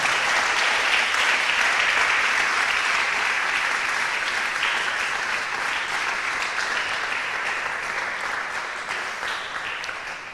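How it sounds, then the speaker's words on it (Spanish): Congregation applauding in a church service, a full, steady roar of clapping that gradually fades over about ten seconds. "denle un aplauso al Rey, hermano amado"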